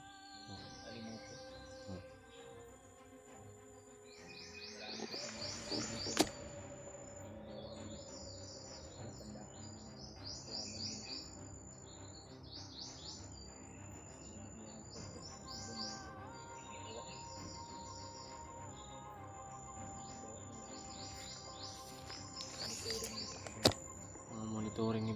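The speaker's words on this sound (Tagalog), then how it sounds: "Ibon yan." Birds chirp and tweet outdoors in repeated high, bright calls, moderately near, over a steady background of insect buzz, with faint voices now and then.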